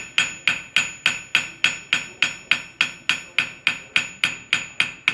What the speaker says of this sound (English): I'm using a smaller cross peen so I get more definition to the veins or whatever ornamentation I want to put into the leaf.